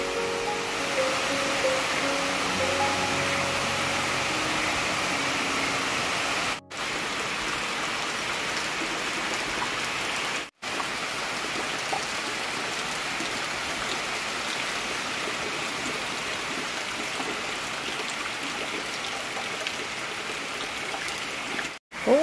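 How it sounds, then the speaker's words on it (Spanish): Heavy, intense rain in rural Chiloé, a dense continuous hiss of drops drumming on surfaces, loud and unbroken throughout apart from a few brief dropouts. "la lluvia nos acompaña, pero muy intensa"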